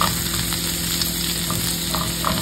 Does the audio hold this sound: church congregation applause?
no